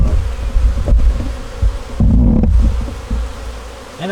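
Dense swarm of honey bees buzzing steadily around hive boxes during split preparation, a close, continuous droning hum with fluctuating intensity and occasional louder passes near the listener.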